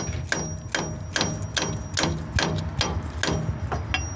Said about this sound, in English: normally you hit it with a hammer